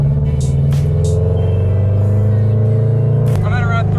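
A Toyota GR86 tuned for a 55% ethanol E85 blend revs under load at around 3,000 RPM, a loud steady engine drone with a rising harmonic whine near the end, heard from inside the car with talk over it.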